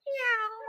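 A person's voice imitates a cat's meow, one short, rising-then-falling mew, clear and close, with no other sounds around it.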